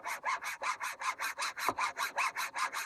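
A hand saw cuts a wooden chamfer in steady, even strokes, about a dozen rhythmic back-and-forth rasps heard close up with no talking.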